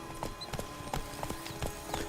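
Horse hooves clip-clop in The Witcher 3 video game, a steady run of soft, evenly spaced hoof strikes at moderate distance over a faint, constant game background.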